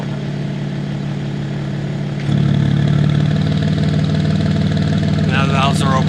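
A BMW G87 M2 idles with exhaust valves open, a steady, loud low rumble that grows fuller partway through, then a brief higher whine near the end.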